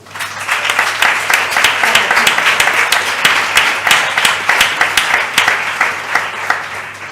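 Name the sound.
audience applause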